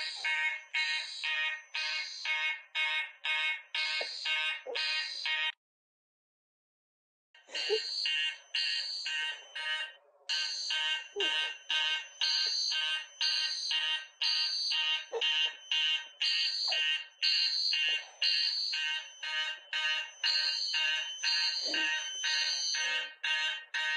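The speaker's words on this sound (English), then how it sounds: "I'm going to pull up the fire alarm." A pulled fire alarm rings nearby with rapid, harsh electronic pulses repeating in a steady rhythm. The ringing cuts out for a couple of seconds near the start, then resumes and carries on loudly to the end.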